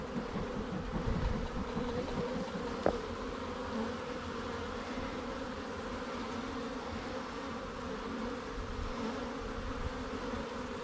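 Constant droning hum of a swarm of bees being smoked out of a nuc box, near and unbroken, holding an even loudness throughout with one sharp knock early.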